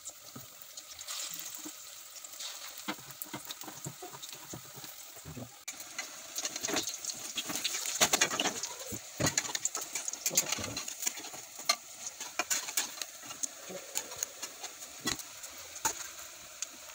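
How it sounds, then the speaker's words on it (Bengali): Taro leaf fritters frying in a hot wok, a steady crackling hiss with scattered sharp pops that grows busier partway through, while voices occasionally speak nearby. "তো দেখো এখন আমি ফ্রাই করছি"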